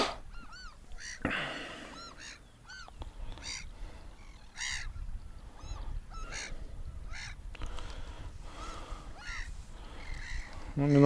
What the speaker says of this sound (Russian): Чайки одну поймают и там толпой дербанят ее.